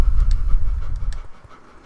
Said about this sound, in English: I have a dog, and um, he pants like a regular dog